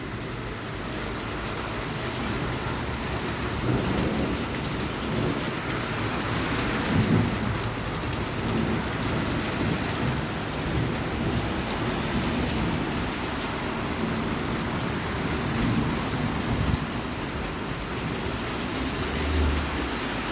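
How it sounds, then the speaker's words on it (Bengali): Heavy rain pours steadily and loudly over a home garden in Italy, a dense unbroken hiss with low rumbles of thunder rolling underneath throughout, no voices present. "হঠাৎ করে এত বৃষ্টি।"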